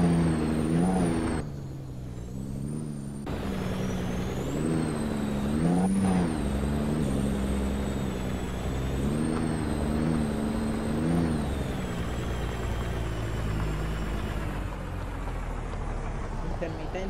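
Kenworth T600 truck loaded with gravel, its diesel engine droning on a mountain road, rising and falling in pitch through gear changes with a high whine above, under someone talking in Spanish.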